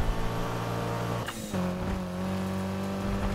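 Car engine in the racing video game Need for Speed Heat, a steady loud drone with a brief gear-change dip, then a lower sustained roar, heard alone.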